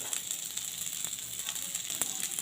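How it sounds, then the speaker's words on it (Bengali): Taro pieces frying in oil in a pan, with a continuous close bright sizzle crackling throughout and a few louder pops. "আমি ওই কোড়াতে কচুগুলোও ভেজে নেবো"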